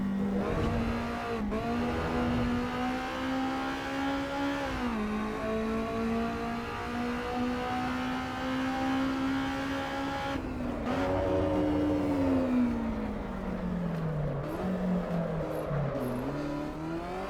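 Racing car engine from Assetto Corsa EVO held at high revs, a loud continuous drone rising and dipping through gear shifts and throttle changes, with a hint of tire noise and no voices.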